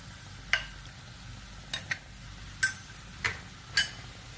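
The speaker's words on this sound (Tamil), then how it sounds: "பருப்பு போட்டுக்கிறேன்." Lentils (dal) being added to a simmering vegetable curry, heard as five sharp clinks of a spoon against the pot over a faint low bubbling background, close with no talk.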